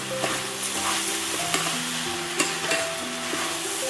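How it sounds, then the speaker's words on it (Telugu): Brinjal with salt sizzling loudly in a pan while being stirred, with a constant frying hiss and occasional scraping clicks of the spoon, close up. "టూ స్పూన్స్ సాల్ట్ రుచికి తగ్గ వేసుకొని కొద్దిగా ఇలా కలిపి ఫ్రై చేసి"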